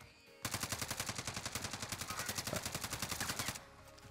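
Rapid machine-gun fire in an online battle royale shooter, one unbroken fast rhythmic burst of about three seconds, loud and close, starting and stopping abruptly with no talking over it.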